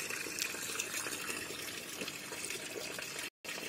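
Steady water flowing and splashing in a small homemade garden pond on a terrace, a continuous gushing trickle that runs unbroken, close and fairly loud, with no voices over it.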